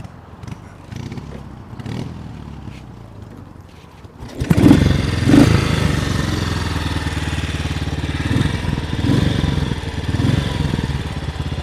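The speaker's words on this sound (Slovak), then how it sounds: "Toto je teda zvuk stojatého jednovalca tradičnej anglickej školy." A 1963 Matchless G80 single-cylinder British motorcycle, heard first as faint thumps and cranking, then catching and settling into a loud, steady, thumping idle close by.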